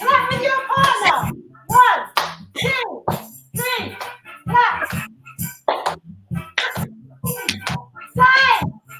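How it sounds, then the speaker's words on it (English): Children clap hands with partners during a home dance lesson: sharp, rhythmic claps land between steady adult instruction, with talking through most of the stretch. "Eliza, clap. Clap."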